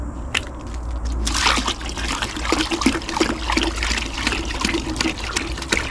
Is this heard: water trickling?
yes